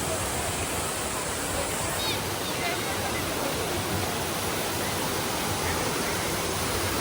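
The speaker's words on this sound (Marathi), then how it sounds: "एकदम खतरनाक वारा आणि सगळं धबधब्याचं पाणी इकडे येतं आमच्याकडं." Rushing water from a monsoon waterfall along the Konkan road, a dense continuous roar close by with wind gusts, while a crowd murmurs and voices talk faintly beneath it.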